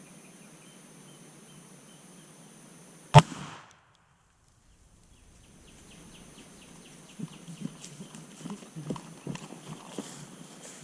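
A single loud, sharp blast from an 1887 shotgun fired at a target outdoors, followed by a brief hush and then faint, scattered background knocks.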